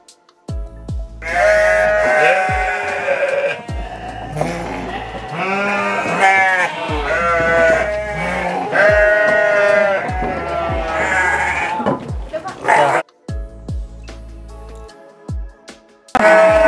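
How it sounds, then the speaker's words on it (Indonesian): Sheep bleating in a pen, a run of loud, close, wavering calls overlapping one another, with brief pauses and some background murmur. "bisa melihat kambing atau domba yang sehat-sehat di kandang ini"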